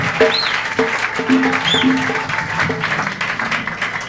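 A church congregation applauds together in a steady, dense wash of clapping, with faint voices and musical tones running underneath.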